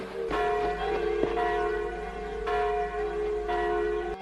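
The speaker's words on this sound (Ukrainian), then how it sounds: "Дзвони дзвонять." Church bells ring steadily near a village as evening approaches, sustained tolling tones overlapping with several fresh strikes and a rich, lingering hum, with no talking over them.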